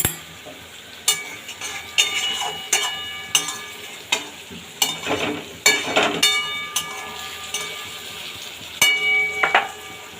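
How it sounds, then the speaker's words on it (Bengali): Small fish curry (chorchori) with vegetables and spices being stirred with tongs in a pan, giving repeated scraping, clinking strokes over a steady sizzle, close and fairly loud with no talk. "এইভাবে সারাশির সাহায্যে একটু নাড়িয়ে চাড়িয়ে দেবো যেন পুরো মশলা সবজি মাছ একসাথে সেট হয়ে যায়"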